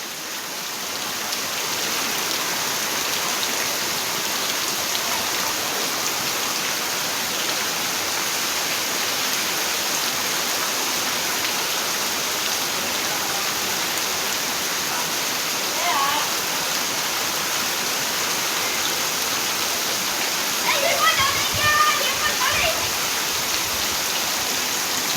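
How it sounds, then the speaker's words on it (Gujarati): Heavy rain pours down steadily on a farm, a dense, continuous loud wash with a few brief louder patches near the end and no clear talk. "અત્યારે હજી ચાલુ જ છે વરસાદ"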